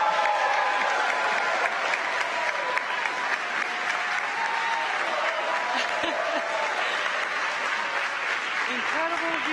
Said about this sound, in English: the crowd goes wild for Crew-4.